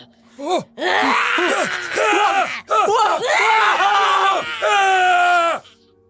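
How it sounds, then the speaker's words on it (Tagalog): Eerie screams and drawn-out groans from an abandoned place, a series of loud close wailing cries that rise and fall in pitch, broken by short pauses. "Nakapaninindig balahibo ang mga sigaw mula sa abandonadong lugar."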